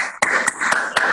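A short burst of a few sharp, separate claps rings out close by at a conference, isolated slaps rather than a full crowd ovation.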